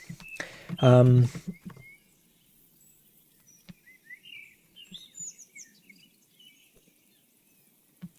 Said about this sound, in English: Let's take the birds down.